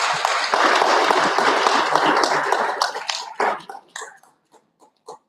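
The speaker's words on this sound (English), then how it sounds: "No wonder the clapping is raising on and on and on" Audience at a university faculty orientation clapping: a dense burst of applause that holds for about three seconds, then breaks into a few scattered, fading claps and taps.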